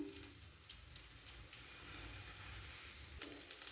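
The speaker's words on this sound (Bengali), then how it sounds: "এরপর সব উপকরণ একসঙ্গে ভালো করে নাড়াচাড়া করে নিলাম।" A spoon stirs a pan of vegetables with coriander leaves, tomato sauce, mayonnaise and garam masala for an egg and vegetable roll, making a faint sizzle under a few light scraping taps against the pan.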